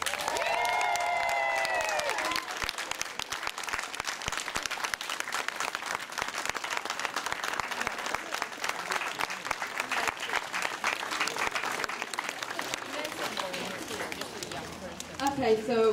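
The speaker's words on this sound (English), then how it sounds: "please give a massive, rapturous applause" Sustained applause from a large crowd at an exhibition launch event, steady and dense clapping that carries on for a long stretch, with a brief voice at the start.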